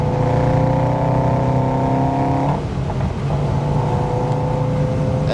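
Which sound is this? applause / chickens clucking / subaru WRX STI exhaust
subaru WRX STI exhaust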